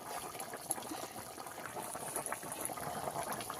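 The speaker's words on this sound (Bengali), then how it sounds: "ঝোল ফুটে গেছে, দিয়ে দেবো ধনেপাতা কুচানো।" Fish curry gravy bubbling in a pan, a close, continuous simmer with thick popping and crackling bursts, steady and fairly loud on its own.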